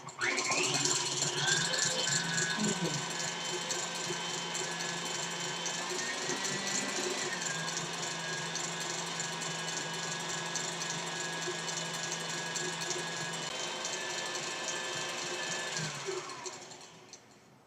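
An electric mixer runs steadily at high speed, whipping cream to stiff peaks for a Yule log, a loud continuous motor whir with a slight pitch shift partway through, cutting off near the end.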